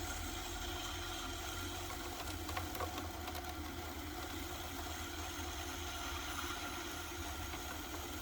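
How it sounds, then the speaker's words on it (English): Steady whirring hum of a pottery wheel as a notch is trimmed into a clay pot to raise its foot ring, with faint scraping mixed into the continuous drone throughout. "we're going to trim a notch down into the pot, which is going to help this foot ring look like it's raised"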